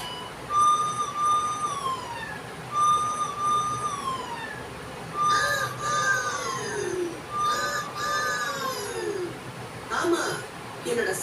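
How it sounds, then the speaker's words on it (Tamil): A siren wails in repeated rising and falling bursts, loud and close, with short pauses between each cycle. "என்னோட சைரனை பயன்படுத்தி நான் வேகமா போறதுக்காக எல்லாருக்கும் வழிவிட சொல்லுவேன்"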